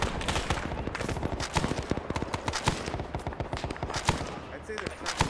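Dense bursts of gunfire from a Vietnam War video game battle at Khe Sanh, rapid automatic shots overlapping in quick rhythm, loud and close throughout.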